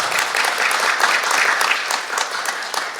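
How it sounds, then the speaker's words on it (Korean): A church congregation at Nadeulmok Ilsan Church claps in a steady, full round of applause that stays strong before thinning slightly toward the end. "한 번 더 박수 부탁드리겠습니다."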